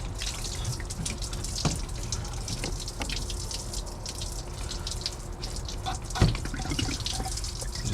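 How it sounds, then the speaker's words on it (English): Green coolant drains from a 2004 Chevy Silverado in a steady, continuous watery splash and trickle, fairly close, with a brief clunk near the end. "Get more of that awful green coolant out, and that way, this way we can flush our heater hoses"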